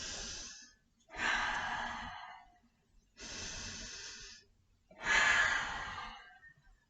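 Four long, deliberate breaths during a kids' yoga session, loud and close, each a breathy whoosh lasting about a second with short pauses between, alone without talk.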